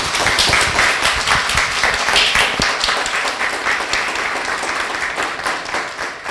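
An audience at a health talk on blood pressure bursts into dense, sustained applause that stays loud and even for several seconds before tapering slightly at the end.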